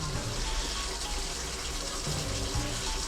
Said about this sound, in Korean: 물 틀어놓으면 이제 이리로 쭉 떨어지고 내려갈 거예요